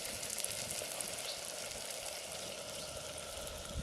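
Onion and potato with sweet potato frying in oil in a village kitchen give a dense, steady, even sizzle with no pauses, close but fairly quiet.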